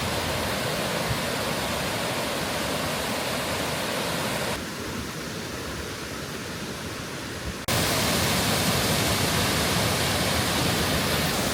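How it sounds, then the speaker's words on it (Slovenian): Large, powerful waterfall at Jajce in Bosnia, a dense steady roar of falling water, loud and unbroken, dipping briefly in the middle before returning at full strength, with no voices. "Toliko mogočnega oziroma vodnatega slapu pa ni v Sloveniji."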